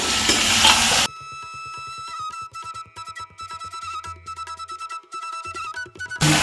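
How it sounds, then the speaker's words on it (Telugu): Meat pieces, including heads and legs, sizzle loudly in hot oil in a pan as they are stirred, heard in short bursts at the start and end with music in between. "ఇప్పుడు అన్ని మంచిగా వేసి బాగా కలుపుకోవాలి ఇక ఇక మంచిగా నూనెలో ఫ్రై చేయాలి"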